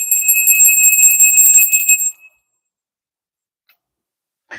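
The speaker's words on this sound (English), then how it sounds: "That is the solar plexus chakra, little bell." Small solar plexus chakra bell ringing, a bright sustained ring with a rapid shimmer lasting about two seconds, then cut off to silence, close and loud.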